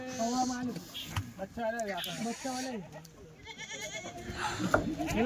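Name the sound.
Kathiawadi goats bleating at a goat sale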